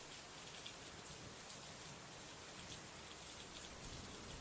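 Steady rain falls in a rainstorm, an even, dense hiss of countless drops on surfaces, constant and soft-to-moderate throughout with no voices.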